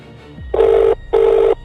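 A telephone rings back after a call is placed, two even electronic ring bursts separated by a short gap, loud and close with no talk over them.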